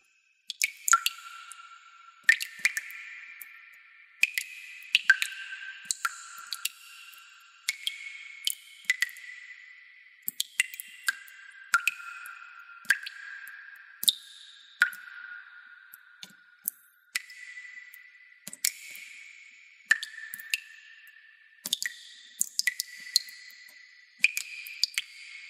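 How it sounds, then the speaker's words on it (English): Water dripping from a faucet inside the video game Emberzone, heard as a steady series of sharp, bright drip ticks repeating every second or so, fairly close and alone with no voices. "woke up again because of the sound of the drops"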